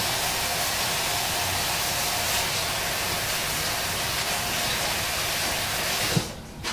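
A tap runs steadily in a home kitchen while hands are washed before cooking a Thanksgiving turkey, a constant broadband hiss of water that cuts off abruptly near the end with a small clunk.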